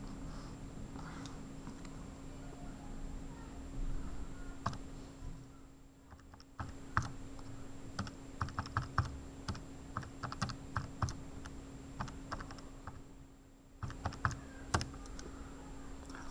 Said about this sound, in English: if I start typing this into my calculator